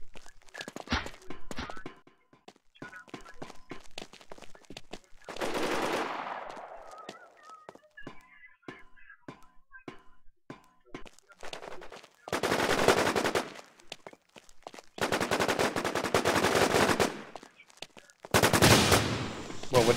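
Gunfire in the online shooter War Inc Battlezone during a bunker sabotage match: rapid automatic bursts of sharp cracks, then several loud sustained volleys, with quiet gaps and faint thuds between them.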